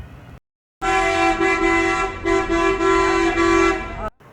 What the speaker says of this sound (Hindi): ये है वो हॉर्न जिसे सुनकर सब पैसेंजर्स वगैरह रेडी हो जाते हैं।